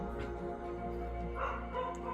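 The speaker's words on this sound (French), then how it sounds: "le chien qui aboie" A dog barks a few times in a space-agency strategy game, Mars Horizon, the yips sitting faintly over a steady, dense musical drone.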